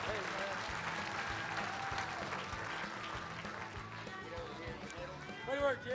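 Audience at a rodeo finals event applauding a bronc rider, steady clapping that fades while an announcer speaks over it, with a burst of cheering near the end.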